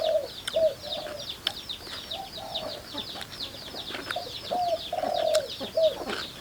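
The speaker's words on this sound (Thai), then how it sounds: "บรรยากาศฟังเสียงนกขันไปพร้อม" Birds sing and doves coo outdoors in a rural garden, repeated cooing phrases over a steady chorus of high chirping, with a rooster or hens faintly in the mix.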